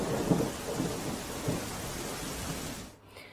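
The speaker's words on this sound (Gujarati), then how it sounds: "ગીર સોમનાથ જિલ્લામાં ભારે વરસાદ વરસી રહ્યો છે" Heavy monsoon rain pours steadily in Gir Somnath district, Gujarat, a dense loud roar with some low rumbling early on, fading abruptly near the end.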